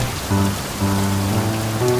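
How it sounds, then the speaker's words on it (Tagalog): Steady rain falls in a constant patter, with faint tonal sounds like distant voices or music layered beneath. "Sarap maligo sa ulan."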